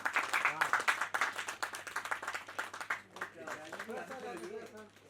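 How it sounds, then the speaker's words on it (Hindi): A crowd at a ghazal music event claps loudly for several seconds, sharp dense claps that gradually thin out and fade, with voices talking over the tail end. "तालियां एक बार जोर से"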